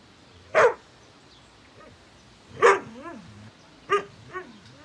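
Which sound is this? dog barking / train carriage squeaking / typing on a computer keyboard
dog barking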